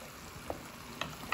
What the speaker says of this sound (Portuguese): já coloquei a carninha de porco pra ir fritando